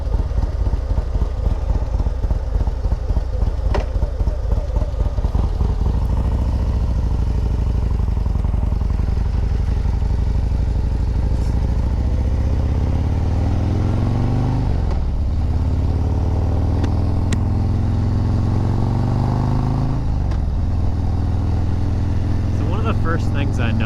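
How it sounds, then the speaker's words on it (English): A motorcycle engine fitted with a Fuel Moto 124 big bore kit and an S&S 475 cam idles with a loud, choppy, uneven lope, then revs and pulls away, rising and falling through gear changes as the ride continues. "So this engine has the S&S 475 cam in it, and I'm sure you can hear that lope, but it's just such a great sounding cam."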